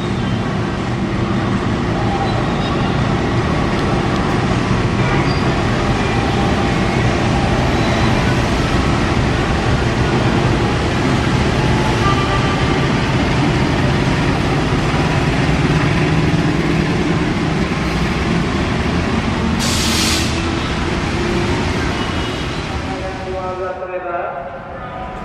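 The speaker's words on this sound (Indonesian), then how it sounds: "Wah, lokomotifnya seperti menangis, teman-teman" Locomotive 2061 from the Cipinang depot passing at a station, a loud continuous engine drone with a whining tone that holds steady before fading at the end, with a brief high burst near the close.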